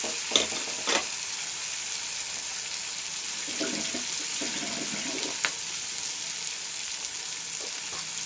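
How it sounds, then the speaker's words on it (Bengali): Greens for a spinach and bean dish frying in hot oil: a soft, continuous sizzle, with a few scraping knocks of the spoon as it is stirred up close, and no talking. "এটাকে ভালো করে তেলের মধ্যে নেড়ে এবারে যে শাকটা সিদ্ধ করে রেখেছি ওটা দেবো"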